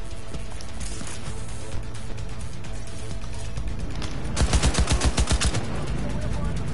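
Gunfire in Cyberpunk 2077: a steady background hum with a few isolated shots, then a fast burst of rapid automatic fire about two-thirds of the way through, loud and close.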